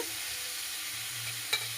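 Vegetables sizzling in a hot wok for semolina upma, a steady close frying hiss under a low hum with one brief sharp clink near the end.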